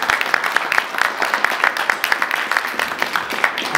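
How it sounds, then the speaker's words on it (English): An audience claps at a property investment conference in London, a dense, even patter of many hands that keeps up steadily for a few seconds with no talking. "Round of applause for Akim Hassan, please."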